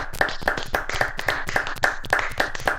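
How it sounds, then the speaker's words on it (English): Hands clapping at a steady, brisk rhythm, about four claps a second, crisp and close, with no other sound around it. "Give them a clap."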